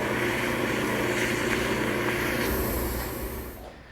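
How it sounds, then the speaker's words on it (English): Sandpaper held against a turned wooden table leg spinning on a lathe, a steady loud whirring hiss with motor hum throughout, fading out at the end. "while the leg is still on the lathe, I want to sand it smooth"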